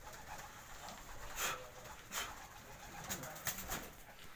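Pigeons in a breeder's loft coo faintly and intermittently, with a few soft wing or movement sounds over quiet background noise, without talk.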